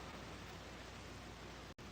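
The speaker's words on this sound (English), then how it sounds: "But yeah, it's definitely raining now." Rain falls outside a porch as a steady, even hiss that stays faint throughout, with one very brief dropout near the end.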